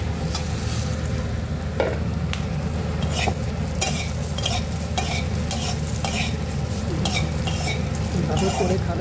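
Sliced eggplant fries in hot oil in a pan, giving a steady, close sizzle with repeated scraping and clinking of a spatula stirring throughout.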